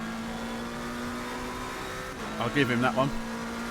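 Racing car engine droning steadily while a BMW overtakes during a race, with a brief rise in engine pitch near the end and a voice speaking over it.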